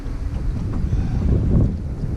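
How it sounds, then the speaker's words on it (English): Wind blows across a jon boat on open water during bass fishing, a steady low buffeting rush against the microphone, loud and continuous with no talking. "The wind is killing me though."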